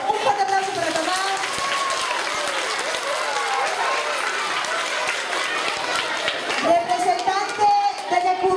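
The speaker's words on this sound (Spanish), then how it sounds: "Un forte aplauso para Tomás." Audience applause at a school talent show, sustained clapping from a crowd with children's voices mixed in, steady throughout and swelling again near the end.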